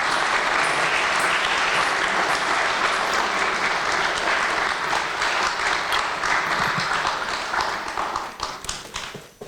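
A large audience applauds to welcome a Kuchipudi dancer onto the stage at her debut performance, a dense, loud, sustained roar of clapping that holds steady, then thins and tapers off at the end.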